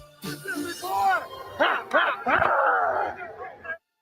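A dog barks and yips excitedly in a series of short, close calls, with what sounds like a person's voice mixed in among the barks.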